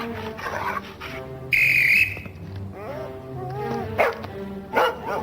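A cartoon dog gives a few short barks near the end, after a sharp high whistle tone, over a busy background of other sounds.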